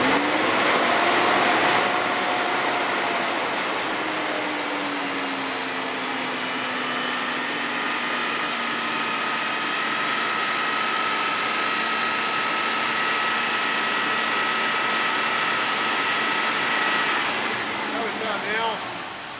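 A car engine runs steadily while its A/C system is charged. It gives a continuous close drone with a shift in pitch as the throttle is opened, and a faint voice comes in briefly near the start.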